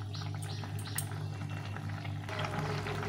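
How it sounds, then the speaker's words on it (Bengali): Vegetable okra curry bubbling and simmering in a pan gives a steady, close hiss and low bubbling, with a brief scrape or stir partway through and a louder sizzle near the end, without talking. "এই সবজিটা ফুটে গেছে সুন্দরভাবে।"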